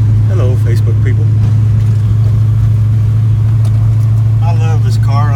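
A 1993 reef blue Fox Body coupe drives around the block, its steady engine drone constant and close, with passing noises and brief bursts of other sound on top.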